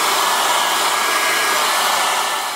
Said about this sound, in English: we're going to get out a blow dryer and speed this up